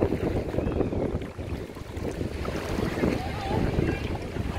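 Strong wind buffets the microphone at Barra Sul beach in Balneário Camboriú, a loud, continuous rumbling roar with surf-like wash beneath it throughout.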